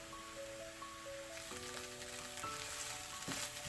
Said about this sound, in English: I'm going to cook this flour taste off for about 2 to 3 minutes